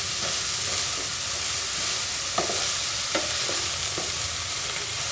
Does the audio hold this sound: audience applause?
no